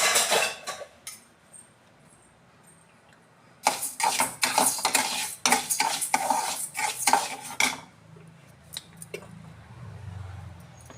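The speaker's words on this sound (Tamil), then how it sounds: "இருங்க நான் வறுத்துட்டு காட்டுறேன்" Parboiled rice dry-roasted in a pan for pori arisi kali, stirred with a utensil: bursts of dense scraping and rattling clatter come in irregular strokes, with quieter stretches between, close and fairly loud.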